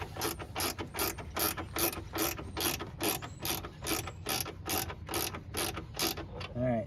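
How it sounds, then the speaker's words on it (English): A socket wrench ratchets a door bolt tight on a Kia Rio, giving a close, steady run of evenly spaced clicking strokes, about two per second, with no talking. "Start them by hand and then run them down with the socket, with the wrench"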